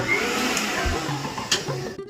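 A kitchen mixer grinder runs in a home where chicken is being cooked, a steady loud whirring drone across the whole short stretch with slight tonal wobble and a faint click.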